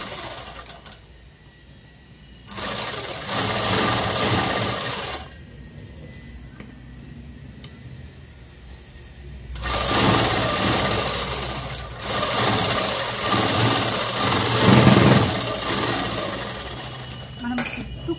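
Domestic sewing machine stitching a Punjabi dress top, running in several bursts of a few seconds each, fairly close and moderately loud, with pauses and faint handling noise between runs.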